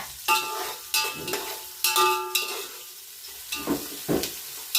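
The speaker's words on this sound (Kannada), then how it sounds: "ಈರುಳ್ಳಿ ಚೆನ್ನಾಗಿ ಫ್ರೈ ಆಗಬೇಕು" Onions frying in a pan for biryani, with repeated sharp clanks of a spoon against the pan over a soft sizzle, close and irregular, no one speaking.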